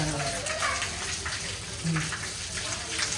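Steady hissing spray of water runs throughout, fairly close, with faint voices mixed underneath.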